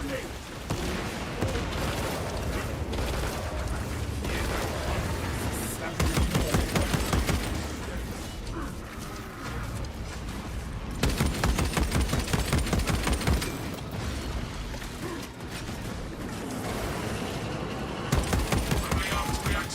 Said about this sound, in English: Firing frag grenade!